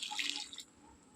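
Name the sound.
water being poured into clam curry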